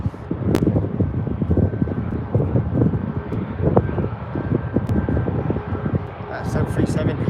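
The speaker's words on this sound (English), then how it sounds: "737 heading out shortly" A Boeing 737 jet at Birmingham airport, its engines a loud, steady, rumbling roar with wind buffeting the microphone and some nearby talk mixed in.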